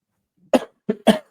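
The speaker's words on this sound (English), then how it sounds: "He's got a cough." Three quick, sharp coughs close to the microphone, the last two in fast succession, with silence around them.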